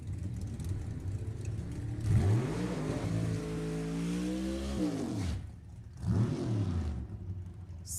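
A 1969 Camaro drag car at a drag racing event revs hard, its engine note climbing and holding in a loud sustained roar, dropping off, then surging again in a second burst, close and without talk.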